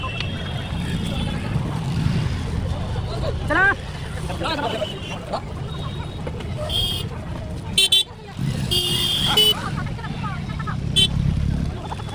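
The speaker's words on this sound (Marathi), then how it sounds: "रिक्षा आहे ही गाईज" Heavy road traffic with an auto rickshaw is heading toward the Mahakumbh at Prayagraj, with a steady engine rumble and road noise. A cluster of car horns toots loudly midway, and people talk over the din.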